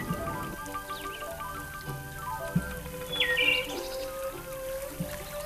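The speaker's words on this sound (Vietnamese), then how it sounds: "nghe tiếng chim hót xa xa" Faint birdsong drifts from a distance across a lake in Dak Lak, Vietnam, a few thin chirps and trills over a soft, steady outdoor background.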